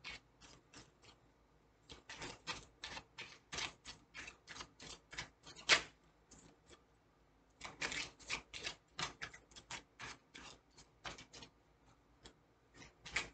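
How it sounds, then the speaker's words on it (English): Oracle cards and a rune are shuffled and pulled one after another, giving quick papery slaps and clicks in irregular bursts with short pauses between them. The sound is close and fairly quiet, and nobody talks over it. "Now we're going to pull a few 111 cards for you and a rune"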